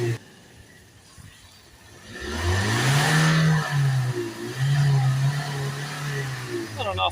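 A Ford Transit Custom with a 2.2 diesel engine idles, then is revved hard a few times, the engine note rising and falling in loud close bursts, with a brief voice in the background.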